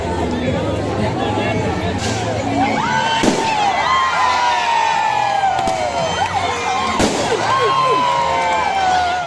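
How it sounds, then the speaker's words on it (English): New Year's fireworks crackle and burst overhead with rising whistles, sharp bangs and fizzing trails, over a cheering, chattering crowd that keeps up a loud continuous roar. "It may not have been the most impressive New Year's fireworks display we've ever seen"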